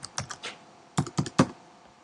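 Bursts of typing on a computer keyboard as a comment is entered: a few quick keystrokes, a pause, then three firmer clustered taps, close and clear in a quiet room.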